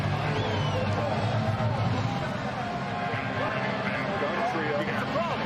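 Loud football stadium crowd roaring from the end zone during an XFL game between the Arlington Renegades and San Antonio Brahmas, a constant wash of noise under a commentator's voice.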